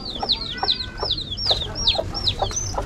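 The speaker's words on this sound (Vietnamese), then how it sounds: "Sao gà nhiều thế" Chickens in a coop cluck repeatedly in a steady rhythm of short, sharp calls, close and fairly loud over a low background rumble.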